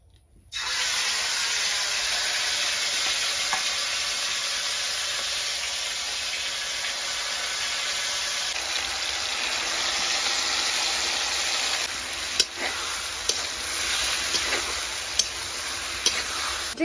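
Marinated chicken dropped into hot ghee in a large kadai for biryani, giving a sudden loud, continuous sizzle and hiss that holds steady, with occasional clicks and taps near the end.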